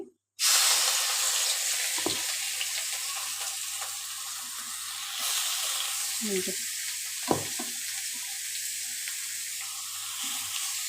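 Chopped spice paste drops into a hot pan for an egg bhujia curry and fries with a steady loud sizzle, broken by a few scraping stirs and one sharp clink, with no talk.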